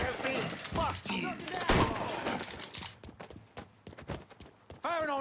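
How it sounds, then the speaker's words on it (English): Mafia III Definitive Edition gunfire snaps in short sharp bursts, several close shots scattered among shouting voices and game noise, with a rapid cluster of cracks near the end. "Firing on that piece of shit!"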